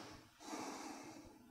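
A slow, close breath is drawn in during a qigong Shibashi movement exercise, a single soft airy inhalation that swells and holds, faint and alone.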